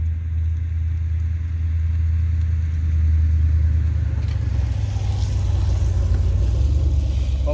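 A neighbor's LS3-powered Camaro rumbles past, a deep low engine drone that swells slightly louder midway and holds steady, heard from a moderate distance with no talking.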